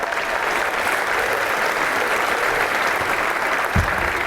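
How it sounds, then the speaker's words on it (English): A theater audience at a magic show breaks into steady, full applause, a continuous wash of clapping from many hands with no pauses. "Ladies and gentlemen, a big round of applause for my new friend,"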